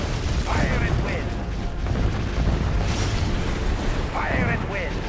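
Artillery fire and explosions in the strategy game Yuri's Revenge, with dense rumbling booms and bursts over continuous battle noise, loud and close, and clipped unit voice lines spoken over the top.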